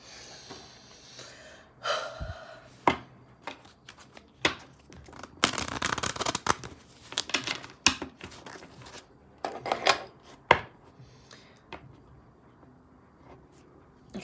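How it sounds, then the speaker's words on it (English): Crisp riffling and flicking bursts of cards being shuffled, close by, in irregular clusters with quiet breathing and pauses between. "as I shuffled the cards"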